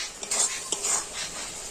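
Melted jaggery filling being stirred in a pan over low heat, a brief run of light metallic scrapes and clinks against the pan, close and moderately loud, with no talking.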